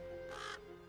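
A single short caw from a cartoon bird, crow-like and harsh, sounds once over a steady musical background.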